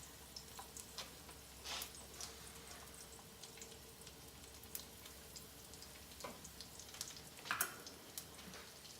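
Breaded chicken cutlets frying in olive oil in a cast iron pan, a faint steady sizzle with scattered soft pops and crackles, heard alone without talk.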